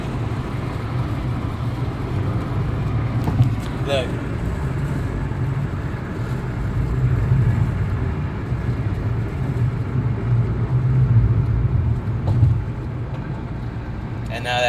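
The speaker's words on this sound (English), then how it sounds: "And now that car is gonna get into that lane." Road traffic rumbles steadily as cars drive past on a highway, a continuous low drone swelling and easing as vehicles pass, while someone talks over it at intervals.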